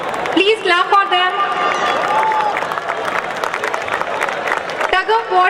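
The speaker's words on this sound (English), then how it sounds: "Please clap for them." Audience applause for the winning girls' tug of war team at a prize distribution, steady clapping and crowd noise with voices talking over it throughout.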